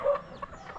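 A chicken clucks softly a few times at a short distance, brief and fairly quiet against a faint outdoor background.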